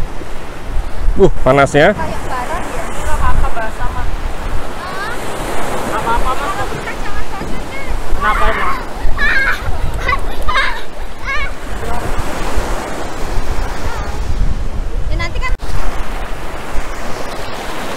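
Ocean surf at Pantai Gesing beach in Gunung Kidul, Yogyakarta, washing steadily with wind noise on the microphone, heard beneath someone talking close by.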